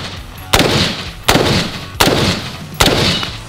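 Four sharp gunshots are fired at test targets in a paper-versus-bullet experiment, evenly spaced about three quarters of a second apart, each a loud crack followed by a brief ringing decay.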